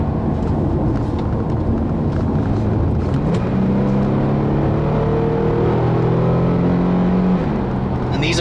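A 2012 Infiniti G37 sports sedan's engine and exhaust drone loudly and continuously while driving, with the revs rising and falling in steady sweeps and a throaty note that stays close throughout.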